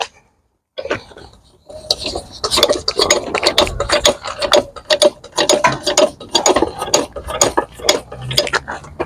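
A ratchet wrench loosens a fastener on the front suspension of a BMW E92 3 Series, giving fast, loud, close clicking bursts in repeated runs after a brief silence.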